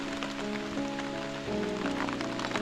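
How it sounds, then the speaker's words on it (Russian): Heavy rain pours down on a bushcraft forest camp with an earth dugout shelter, a dense, steady hiss of drops drumming close by with no pauses. "дождь как зарядил, слышите?"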